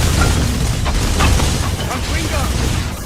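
A Confringo blasting spell goes off in the Harry Potter and the Deathly Hallows PS3 video game, a loud booming burst over a dense, continuous wash of game sound and voices.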